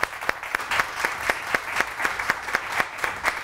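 A studio audience claps to welcome guests, a dense steady applause with rhythmic accented beats roughly every quarter second, fairly loud and close throughout.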